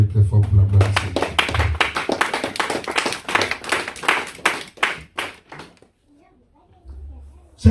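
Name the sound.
church congregation applauding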